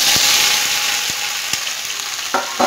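Jujubes fry in hot mustard oil in a wok, giving a loud bright sizzle that eases slightly over time, with occasional sharp taps and scrapes of stirring near the end and no speech.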